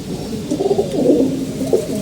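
Pigeons coo loudly and close by in soft, overlapping rolling calls that continue without a break.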